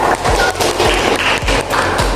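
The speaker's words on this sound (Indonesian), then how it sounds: "Pintar sekali, tepuk tangan." Classroom applause for a student, a steady patter of many hands clapping close by that fills the whole short moment at an even level.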